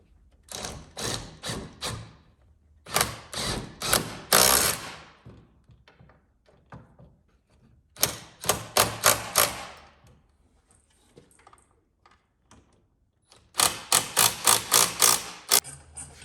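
Power driver tightening bolts on a Ford F-250 Lariat seat being reinstalled, heard as several clustered bursts of rapid ratcheting clicks and thuds separated by quiet pauses, close and fairly loud.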